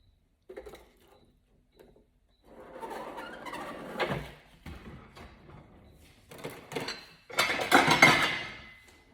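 Dishes and serving utensils clink and scrape as air-fried stuffed peppers filled with keema curry, cauliflower, mincemeat and rice are plated, a few soft knocks early, then a louder, busier burst of clatter near the end.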